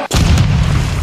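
A frag grenade explosion in the video game Modern Warfare 2, one loud close boom with a heavy low rumble that fills the whole moment after a sharp onset, with no talking.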